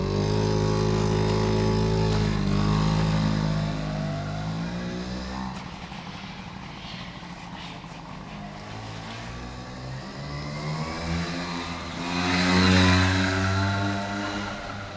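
Small 2.5hp Honda Motocompo scooter engine buzzing through a lap, loud and close at first, fading somewhat as it pulls away, then swelling again near the end.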